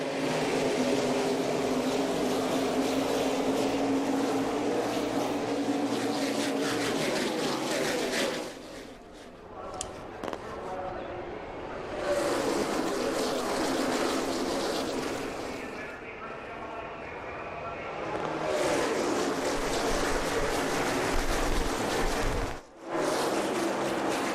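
Pack of NASCAR stock cars thundering away at the start of the 2008 Daytona 500, a loud continuous engine roar and crowd wash that swells and fades as the field passes, with an announcer talking over it.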